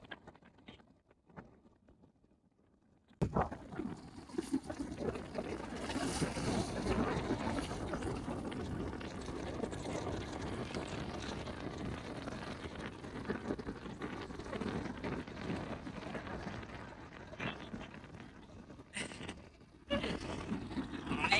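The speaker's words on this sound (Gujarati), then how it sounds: "પવન નો અવાજ બહુ આવતો હશે" Strong wind at the seashore roars and buffets the microphone in a continuous rushing blast after a few quiet seconds, briefly dropping out near the end.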